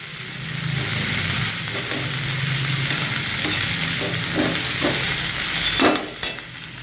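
Eggplant slices frying in a pan, a continuous close sizzle with occasional stirring scrapes and soft clinks, alone without voices.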